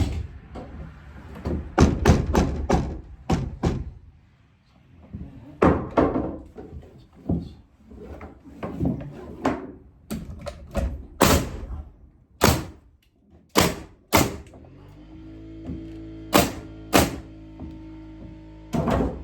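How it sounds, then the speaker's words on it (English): Air nail gun fired repeatedly while building a small cabin: a series of sharp, close pneumatic bangs and thunks with uneven spacing, some closely paired, with a compressor-like hum rising near the end. "Notice how that air gun double spiked? You heard that sound?"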